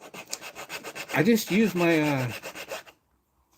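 A hand file scrapes across a chainsaw chain in a shop, a series of quick rhythmic rasping strokes heard close up, with someone talking over part of it before it falls silent.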